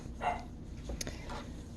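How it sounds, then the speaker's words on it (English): A small dog gives a couple of short, yippy barks at moderate distance in a quiet room, with faint background noise between them. "There's my little doggo barking"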